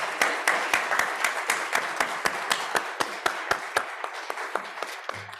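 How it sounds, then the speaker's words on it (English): A smaller round of audience applause for panelists, with distinct rhythmic claps from nearby hands over a softer background of clapping that gradually thins out. "Let's have another round of applause for Neil and all of our panelists."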